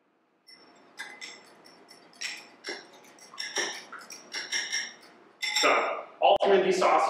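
Homemade barbecue sauce is stirred together with honey, a series of light clinks and taps of a utensil against a glass or metal bowl that grow busier and louder toward the end.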